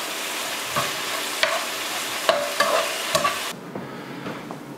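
Bok choy and shrimp stir-frying in a pan, a steady close sizzle broken by repeated scraping strokes and light knocks of a utensil against the pan.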